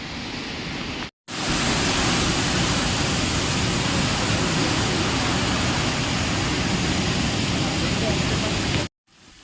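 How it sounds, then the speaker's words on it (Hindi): A mountain waterfall plunging from thousands of feet on the Gaurikund to Kedarnath route roars as a loud, unbroken wash of noise, briefly cut off near the start and end, with a voice talking at times. "ये जो आप झरना देख रहे हैं, जो हजारों फीट पहाड़ की ऊंचाइयों से गिरती हुई"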